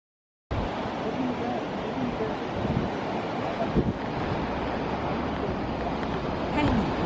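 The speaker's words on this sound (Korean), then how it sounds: "서해안 낙조의 명소 꽃지 해수욕장을" Surf and wind at Kkotji Beach on Anmyeondo in Taean roar in after a short silence, a dense, steady wash of breaking waves with gusting wind buffeting the microphone.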